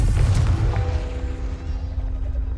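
A Confringo explosion spell going off in the Hogwarts Legacy video game, a loud booming blast with a deep rumbling tail that slowly fades under a lingering tonal hum.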